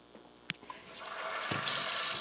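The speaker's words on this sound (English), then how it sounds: "So I just rinse my hand off a little bit there." A hand is rinsed under a running tap, heard as a quiet splash that grows into a steady, close stream of water by the end, with a few small knocks before it.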